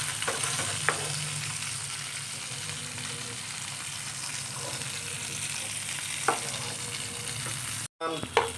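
Magur catfish frying in mustard oil gives a steady, close sizzle with crackling spatter, a few sharper pops, and a brief dropout near the end before the frying resumes.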